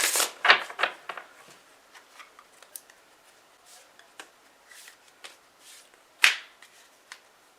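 Tarot oracle cards are shuffled by hand in quick riffling bursts, loud at first, then softer scattered flicks and taps, with one sharp riffle late on.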